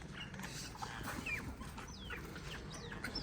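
Backyard hens cluck softly and chirp in short, scattered calls at close range over a constant low background hum, with no voices.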